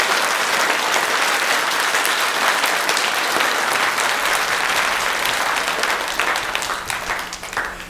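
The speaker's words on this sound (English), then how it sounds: "A round of applause for Stencil Jazz, everyone." An audience at a Halloween show applauds loudly and continuously, dense clapping that holds steady before easing slightly at the end.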